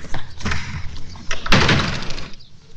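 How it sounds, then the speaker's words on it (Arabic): A door is slammed shut indoors, one loud sharp bang with a short rattle after it, following a few softer knocks and handling sounds. "ما في بني ادمين بيرزعوا البيبان عادي"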